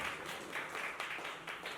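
Distant, fairly faint crowd applause at a gathering honouring guests, a steady wash of many hands clapping with slight surges, no clear speech over it.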